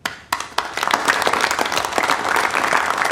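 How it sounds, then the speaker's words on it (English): A roomful of officials in suits and ties breaks into applause in a dramatized Chernobyl meeting scene, a few scattered claps quickly swelling into steady, dense clapping that carries on without talk. "I am sick of seeing people in suits and ties giving themselves a round of applause in this show."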